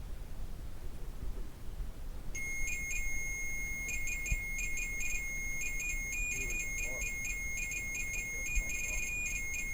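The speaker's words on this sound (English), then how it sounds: "Think you can make that thing beep again like you just did?" An electronic device beeps inside the Grand Midway Hotel: a high, steady alarm-like tone starts a couple of seconds in and then pulses in rapid, irregular bursts over a low background rumble.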